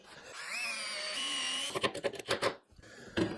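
A power drill drives a single screw into a wooden box joint sled, with a steady whirring run for over a second, then a series of short choppy bursts and a final brief spurt.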